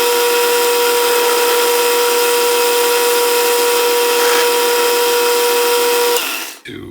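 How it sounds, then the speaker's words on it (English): A machine cuts a new synchronizer screw for Mikuni round-slide pumper carburetors. A loud, steady, high-pitched whine runs alone for about six seconds, then abruptly cuts off. "Let's just take a little cut regardless of measurement and see what it does."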